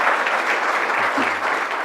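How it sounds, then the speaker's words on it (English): Steady applause from a crowd, dense and even, filling the whole moment with no voices over it. "Round of applause, guys."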